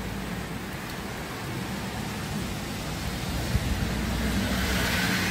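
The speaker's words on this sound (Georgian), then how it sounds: "მაგარი წვიმა წამოვიდა, მთელი ღამე წვიმდა" Heavy overnight rain pours down at the Black Sea resort of Ureki, a dense, constant wash of noise with a low rumble beneath, steady and close throughout with no voices.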